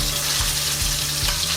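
Chicken pieces frying in a hot pan to build a crispy crust for chicken parmigiana, giving a steady, close, full sizzle with a low rhythmic pulsing underneath and no talk.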